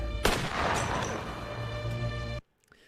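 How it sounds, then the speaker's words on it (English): A gunshot from a 1990s anime-style video game animation opens with a sharp report. A reverberant boom rolls out behind it, then cuts to near silence about two seconds later. "that was a pretty weak-ass animation right there, that gunshot"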